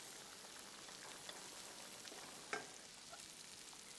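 Onions sweating in a pan for a pea and asparagus puree pasta give a faint, steady low sizzle with a brief stir clatter near the middle, no voices.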